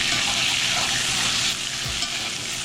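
A New York strip steak sizzles loudly in a pan as it is basted with hot brown butter, a dense close crackle with spoon-scraping and spattering bursts, no talk.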